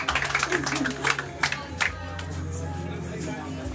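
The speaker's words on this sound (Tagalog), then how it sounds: "Lahat ng kamay pumalakpak." Guests clap and cheer at an 18th birthday party, a brief burst of crowd applause under a speaker's voice that fades as a steady background tone takes over.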